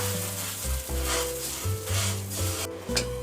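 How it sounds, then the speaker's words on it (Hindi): Sugar melts in a pan for caramel popcorn with a continuous, fairly loud sizzle and stirring, over a steady low tonal hum in the background. "चीनी को हमने पकाना है मेल्ट होने तक।"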